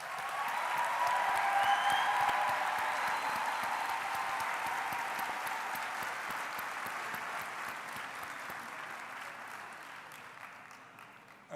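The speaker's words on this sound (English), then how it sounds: "Please, let's give them a round of applause." Audience at a university summer graduation ceremony applauding at length, a broad, steady wash of clapping that swells early and slowly tapers over about eleven seconds, with faint voices mixed in.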